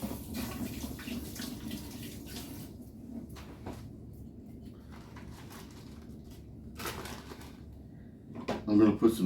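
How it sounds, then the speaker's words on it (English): Hands are rinsed under a running kitchen tap while a vegetarian casserole is being made, a faint, steady stream of water that ends in a louder splash and a clunk near the finish. "going to rinse my hands."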